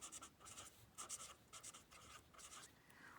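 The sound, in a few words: pen writing on paper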